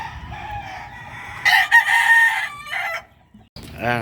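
A pet hen fusses near her chicks, giving a few close, loud clucks and cackling calls in a short burst, with a brief pause between them and a rising squawk at the end.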